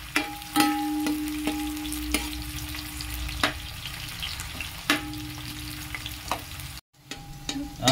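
Onions fry in plenty of oil for chicken biryani, a close, continuous crackling sizzle punctuated by repeated metallic stirring knocks and scrapes against the pan, with a short gap near the end.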